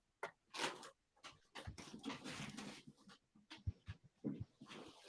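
A dog pants and whimpers close by, with irregular bursts of breathy huffing and soft whines separated by brief pauses, plus a few low thumps. The sounds are quiet overall.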